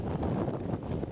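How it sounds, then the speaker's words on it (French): Strong wind gusts buffet the microphone at a shoreline spot used for water sports, a low, rumbling, fluttering roar that swells and dips over about a second with no voices. "Un vent qui souffle plus que d'habitude"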